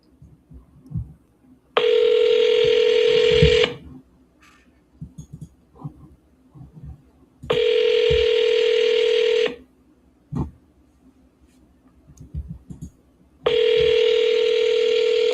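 An outgoing phone call rings through the earpiece in three long ringback tones, separated by pauses that carry faint background noise.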